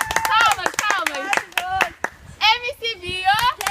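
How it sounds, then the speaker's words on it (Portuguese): Children clap their hands in rhythmic bursts in a classroom, sharp claps mixed with and under lively voices singing and talking. "Palmas."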